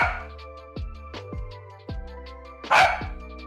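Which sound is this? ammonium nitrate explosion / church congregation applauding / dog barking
dog barking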